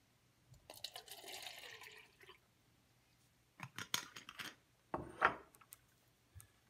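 Water is poured from a container back into a styrofoam cup during a dissolved oxygen lab, a few short splashing pours and trickles separated by quiet pauses, close and fairly soft.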